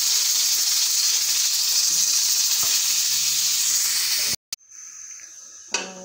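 A loud, steady hiss of steam escaping under pressure from a pressure cooker cooking mutton fills most of the clip, then cuts off abruptly, leaving quiet clatter.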